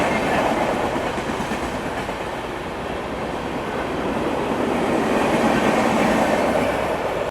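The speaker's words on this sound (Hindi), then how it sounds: "चलिए तेलंगाना एक्सप्रेस जो है वो आ रही है, ओवरटेक कर रही है अपने को।" The Telangana Express overtakes on the adjacent track, a loud, steady rumble and clatter of rolling wheels that rises slightly toward the end, with no voices.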